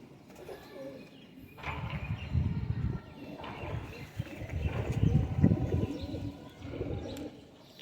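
Pigeons coo in low, murmuring bursts that swell and fade repeatedly, with a few faint chirps over a soft background.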